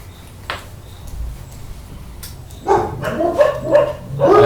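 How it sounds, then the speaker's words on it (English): A dog at home barks repeatedly as someone arrives, sharp barks starting after a quiet stretch and growing louder and closer. There is faint background noise between them. "My dog's gonna go off now, so somebody's arrived home"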